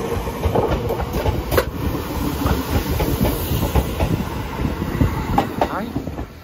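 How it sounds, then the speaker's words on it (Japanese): Inside a moving Nagano Electric Railway train, a former Narita Express car, a steady rumble with rhythmic clacking of wheels over rail joints, loud and close throughout. "なんか都会の電車の音がする。"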